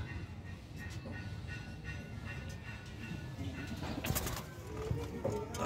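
Pigeons coo repeatedly at a racing pigeon derby loft, soft throaty calls over steady outdoor ambience, with a few sharp clacks and rustles near the end.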